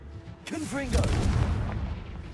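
A Confringo explosive spell cast in Hogwarts Legacy, a single loud booming blast that rolls out into a long rumbling tail, heard close and alone.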